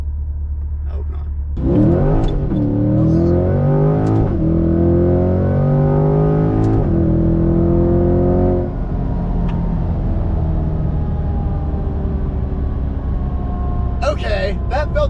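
A Corvette C8 fitted with a Halltech Hornet intake roars through a hard high-RPM pull, its engine note climbing in rising sweeps close by before easing off, with brief voices near the end.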